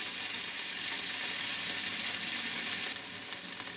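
Seasoning renders down in a well-used secondhand enamel cast iron pan, giving a steady, close, bright sizzle and frying hiss throughout that brightens slightly toward the end, with no voices.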